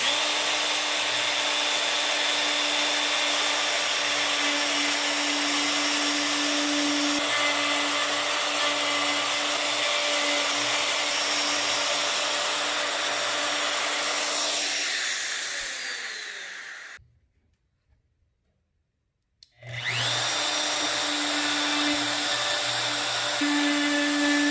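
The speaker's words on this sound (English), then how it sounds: "For those of you with a router, I highly recommend this Ryobi jig. It makes quick work of cutting out hinges." A router fitted with a Ryobi hinge jig cuts door hinge recesses in an interior door, a loud, steady high whine that winds down, stops for a couple of seconds, then starts up again.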